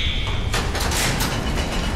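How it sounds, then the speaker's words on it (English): A heavy security door sliding open in the video game Call of Duty Modern Warfare 2 Remastered: a short whine gives way to a loud grinding metallic rumble as the door travels, close and alone. "Ghost, you opened the wrong door."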